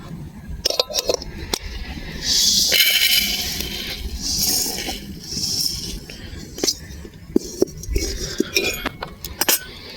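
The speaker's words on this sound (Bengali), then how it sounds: "এবার আমি বাটিতে ঢেলে নেব।" Fried flattened rice is tipped from a wok into a bowl, with scraping and a scatter of sharp metallic clinks and knocks, plus a short stretch of rushing, rustling noise in between.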